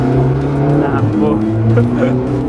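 A sports car, either a Lamborghini or a McLaren, passes by on Rodeo Drive in Los Angeles with a loud, harmonically rich engine note whose pitch shifts as it goes by, mixed with street noise and people talking.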